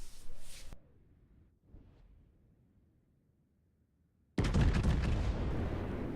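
Warship main guns fire in World of Warships, a heavy booming salvo bursting in loudly and rumbling on to the end after quieter, muffled game sounds and a near-silent stretch.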